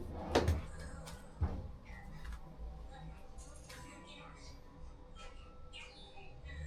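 Wooden drawers or cupboard doors opened and shut while clothes are packed for travel, two firm thumps early on followed by quieter rustling and light handling.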